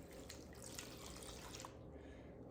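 Water running from a kitchen tap into a mixing bowl for a first homemade bread dough, a steady close splashing stream that cuts off near the end.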